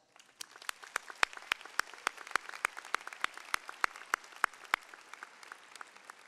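Audience at the 2017 LSU Law Center commencement applauds the faculty, with scattered, distinct hand claps ringing out in a large hall, fairly sparse and moderately quiet.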